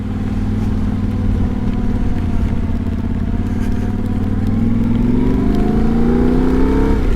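A Yamaha Tenere 700 World Raid motorcycle engine drones steadily and loudly up close while riding, its pitch climbing near the end as the rear wheel briefly spins.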